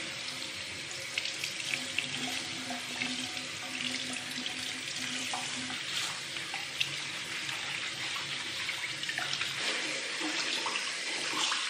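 Tap water runs steadily into a sink while aquarium filter media is rinsed under it, a continuous close splashing rush with slight shifts as the flow hits the media.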